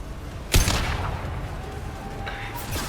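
A single loud gunshot in Mass Effect 2 Legendary Edition, a sharp close blast that decays into a rumbling tail, followed by faint tones and a softer burst near the end.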